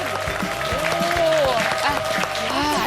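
Studio audience of a Korean health talk show applauds as three trial participants walk on stage, steady clapping throughout with music and voices mixed in underneath.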